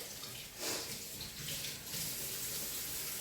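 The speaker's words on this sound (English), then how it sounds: "I'm going to need the water running" Water runs steadily from a kitchen tap in a home kitchen during cooking, a continuous hissing splash that briefly swells, with no voices over it.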